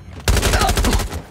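A loud burst of rapid automatic gunfire in Watch Dogs Legion starts abruptly and keeps a fast steady rhythm for about a second, close and alone.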